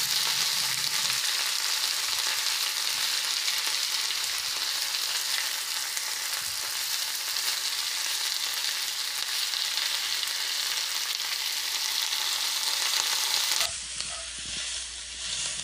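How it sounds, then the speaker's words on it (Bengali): Potato and radish pieces fry in oil with salt and turmeric, a dense, continuous close sizzle that holds steady for a long stretch before dropping off abruptly near the end. "আর তেলের মধ্যে আলু মূলোগুলো দিয়ে একটু নুন হলুদ দিয়ে ভেজে নিলাম।"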